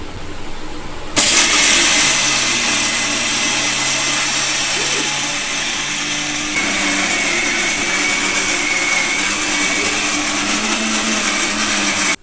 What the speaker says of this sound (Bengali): এটাকে আরো ভালো করে মিক্সচার চালাতে হবে, তাহলে আস্তে আস্তে আঠা মতো হয়ে যাবে